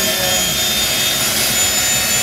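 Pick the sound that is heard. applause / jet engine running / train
jet engine running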